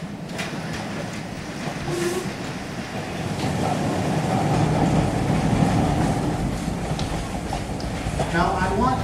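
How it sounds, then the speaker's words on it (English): A stage train effect in a theatre production of Twentieth Century: a continuous rumbling, rolling rail noise with faint clickety-clack that swells and holds for several seconds, loud and unbroken. "The moment the train comes to a stop."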